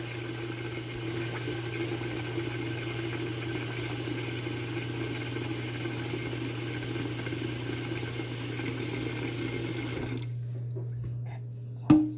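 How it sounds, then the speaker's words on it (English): Water runs steadily into a canning pot for green beans, a constant close rushing hum that cuts off near the end, followed by a small clunk. "The water's filling up to the mark."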